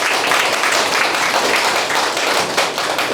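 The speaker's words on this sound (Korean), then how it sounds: "우리 박시원님께 박수 한번 치세요" A lecture audience in Busan claps together in a loud, close, continuous burst of applause lasting a few seconds with no speech over it.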